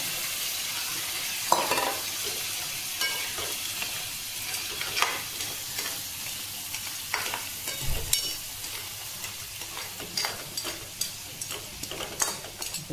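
Continuous sizzling of crab frying in a hot pan, with occasional clinks and scrapes of stirring.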